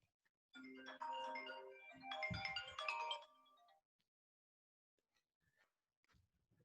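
A melodic electronic ringtone plays for about three seconds, clear and close, then stops abruptly, leaving near silence with faint small noises.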